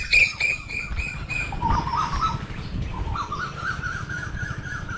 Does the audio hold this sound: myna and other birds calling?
yes